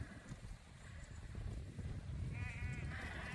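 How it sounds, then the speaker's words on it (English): Sheep on a hillside bleat a few times, the calls wavering and moderately distant, over a steady low rumble of outdoor noise. "So some of the sheep up there haven't decided to come down"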